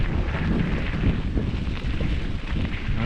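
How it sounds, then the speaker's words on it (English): Strong gusts whip across an open area beside a railway line, buffeting the microphone with a loud, steady low roar that barely lets up. "so it's just being whipped by the wind."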